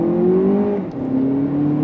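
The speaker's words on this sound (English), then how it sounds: "But let's go on throttle from a dead stop." A 2025 Lexus TX 500h F Sport Performance pulls away from a dead stop under throttle, its engine note rising steadily, dipping at a gear change of the six-speed automatic, then climbing again, loud and close.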